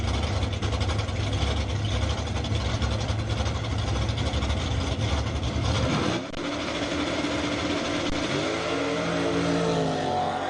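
A drag racing launch at a Division 5 ET finals event on the strip, with a big station wagon and a 1968 Camaro with a 427. Engines roar loudly and steadily, with a rising rev sweep near the end.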